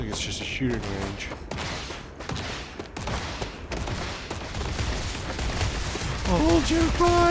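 Rapid gunfire crackles from a shooting range in the video game Starfield, a dense fusillade of sharp bursts running through the whole stretch, with speech-like voices breaking in near the end.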